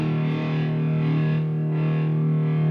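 A sustained electric guitar chord rings out heavily distorted, loud and close, holding one droning, buzzing tone with slight swells and no voices.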